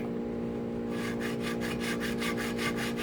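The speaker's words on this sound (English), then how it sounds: "Just make sure you get the right size for whatever fret you're filing on" A file scrapes across the frets of a 12-inch radius guitar neck in about eight even back-and-forth strokes, close and clear after a short quiet start.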